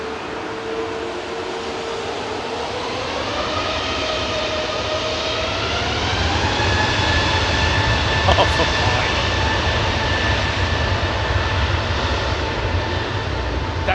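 Jet airliner rolling on an intersecting departure at Heathrow, a steady engine roar with a rising whine that climbs and builds in loudness as it spools up, close and dominant.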